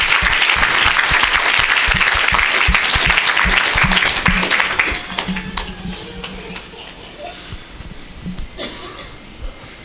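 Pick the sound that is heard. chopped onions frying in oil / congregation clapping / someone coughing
congregation clapping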